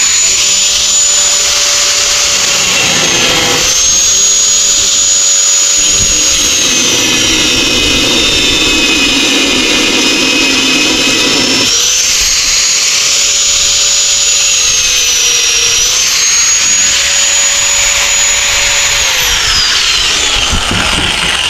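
Angle grinder running steadily on a house construction site, a loud continuous high whine with shifting pitch as the load changes, droning throughout with no break.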